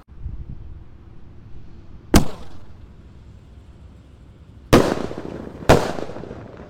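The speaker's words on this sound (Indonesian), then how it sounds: "Dan penutupnya pelontar double attack Basoka Roman Candle guys" Basoka Roman Candle double attack firework launching outdoors: three sharp, loud launch bursts, the first alone and the last two close together, each with a short crackling tail over quiet background and no talk.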